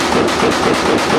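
Rapid loud bursts from a Draco pistol at an outdoor gun range, a close, rhythmic string of shots pounding almost continuously through the short span.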